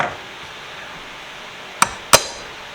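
A hammer strikes an old tool twice to knock parts out, giving two sharp metallic clinks a fraction of a second apart against a quiet background.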